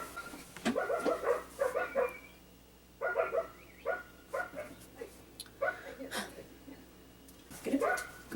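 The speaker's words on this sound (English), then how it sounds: "I have no idea what they're barking at." Several dogs outdoors barking in repeated bursts with yips and whimpers, loud and close, pausing briefly between volleys over about eight seconds.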